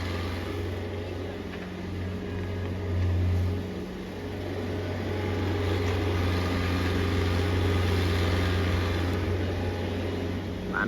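Kubota KX155 excavator engine working while digging soil at a house site: a steady, close diesel drone with a low humming tone that swells slightly under load, then settles back.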